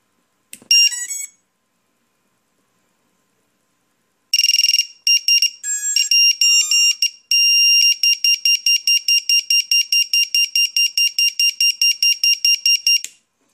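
A Matek Lost Model Beeper and a standard drone buzzer sound piercing high-pitched electronic beeps: a short chirp, a pause, then a cluster of irregular beeps, followed by a long run of rapid, evenly spaced loud beeps.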